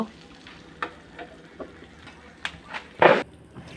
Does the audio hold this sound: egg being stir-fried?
yes